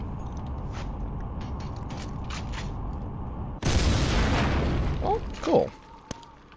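A grenade in the video game Killzone detonates midway with a sudden loud blast that rolls into a noisy, decaying rumble, preceded by quieter mechanical game ambience and followed by brief voice-like sounds.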